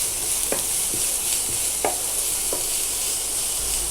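Vegetables stir-frying in a pan for bread masala give a continuous sizzle, broken by several distinct scrapes and clacks of a spatula tossing them at uneven intervals.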